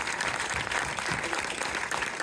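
A cinema crowd at a film preview screening claps continuously, dense and fairly loud throughout, many hands at once with no talking over it.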